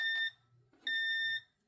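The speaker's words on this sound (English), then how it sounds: "So you heard little beeps there from the keypad saying that Zone 1's test was successful." A Safe House 49-485 alarm keypad gives two short, bright test beeps, close and clear with a brief gap between them, during a burglary zone test.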